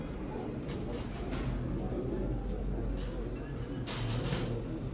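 Pigeons coo at an outdoor bird auction, soft low repeated coos under a steady background hum, with people talking nearby.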